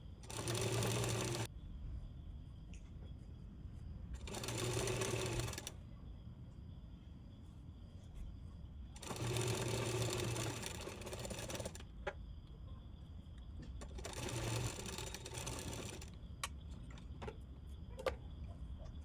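Sewing machine stitching the hem of a kurti, running in four loud bursts of a few seconds each with quiet pauses between, close and alone.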